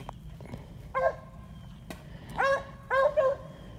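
A hunting dog barks and yips during a rabbit hunt outdoors, a few short sharp calls spaced out across the moment, with a single bark followed by a rapid pair, against quiet background.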